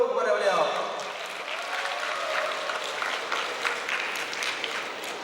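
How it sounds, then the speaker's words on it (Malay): At a 2006 patriotic independence night in a polytechnic hall, the audience breaks into sustained, roaring applause that follows a brief voice at the start and continues steadily throughout. "saya minta kepada semua warga Dewan untuk beri tepukan paling gemuruh kepada beliau"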